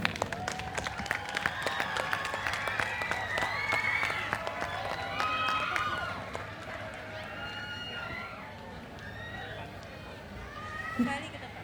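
Dense crowd applause at the opening ceremony of a 2024 youth camporee in Jakarta, steady and loud throughout, with lively chatter and voices over it, tapering slightly toward the end.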